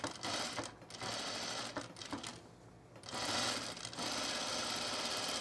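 A sewing machine stitches the fly of a pair of culottes, running in close bursts of rapid needle clatter with short pauses between them, the longest near the middle.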